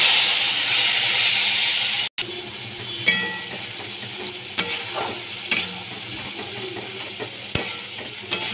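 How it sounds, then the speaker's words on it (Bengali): Ground spice paste dropped into hot white oil already holding whole cumin, cardamom and dried red chili gives a loud, dense sizzle that cuts off abruptly, then scattered stirring clinks and softer frying hiss. "তেলের মধ্যে বাটা মশলাগুলো সব দিয়ে দিলাম।"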